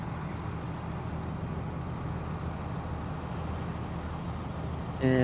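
A tanker truck drives by as a steady, broad engine-and-road rumble that holds throughout, joined in the last moment by a louder tonal whine near the end.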